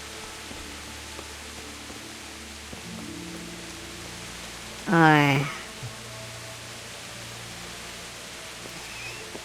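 Rain pours steadily in the medieval world of Kingdom Come Deliverance, a soft, even hiss that runs throughout, briefly broken by a short vocal exclamation midway.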